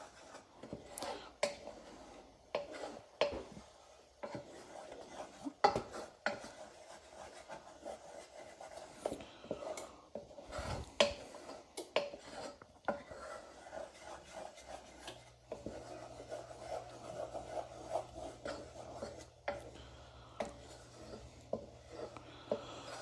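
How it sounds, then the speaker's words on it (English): A spoon stirs and scrapes through a thickening sweet and sour glaze in a pot on the stove, giving soft repeated rubbing and scraping strokes with occasional light clinks, steady and fairly quiet throughout. "Whenever I draw my spoon through, you can actually see the bottom of the pot."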